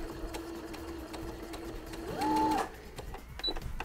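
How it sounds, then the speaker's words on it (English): A sewing machine fitted with a double piping foot runs in a steady mechanical whir while backstitching, with a short pitch-rising surge partway through, close and clear with no talk. "So then I'll backstitch."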